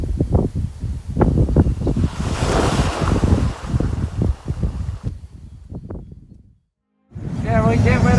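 Ocean waves surge and crash while wind buffets the microphone on a shrimp boat at sea, a steady loud rush with gusty peaks. There is a brief dropout near the end, and a voice is heard over the noise.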